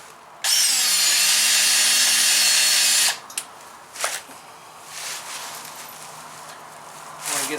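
A power drill drives a number 8 by 1.25 inch screw into wood for a teardrop trailer build, a loud continuous whine for about three seconds, then stopping, followed by quieter clunks and handling noises.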